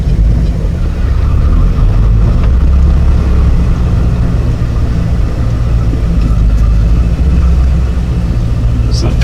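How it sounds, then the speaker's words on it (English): An OBS-generation Ford F250 pickup truck engine runs steadily while the truck backs up, a loud, close, continuous low rumble with no talking. "Put her in reverse and back on up."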